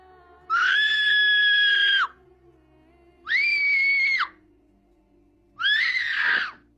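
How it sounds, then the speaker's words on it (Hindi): A girl's screams ring out from a nearby cave, three long, loud, sustained cries separated by short pauses, standing alone against quiet. "करीबी गार से एक लड़की की चीख सुनाई दी।"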